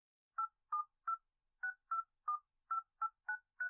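Ten crisp touch-tone beeps sound as a telephone number is dialed, evenly spaced short tones with a brief pause after the third, clear and isolated against silence.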